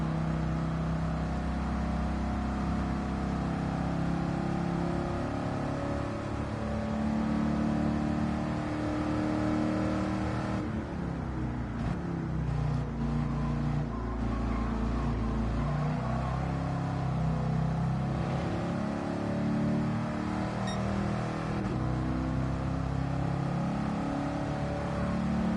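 A 1978 Pontiac Firebird Trans Am muscle car in a racing game roars steadily throughout, its engine droning and shifting pitch with rough revving and tyre noise in the middle stretch, loud and continuous with no talk.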